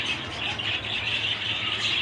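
A pair of caged rose birds kept with their eggs give a continuous stream of close, busy squawks and chatter throughout.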